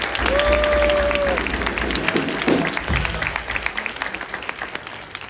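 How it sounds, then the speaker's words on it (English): Audience applause at a middle school district jazz concert, a broad roomful of clapping that starts full and gradually thins toward scattered claps, with a brief tonal sound early on. "please stand and let's applaud for you as well"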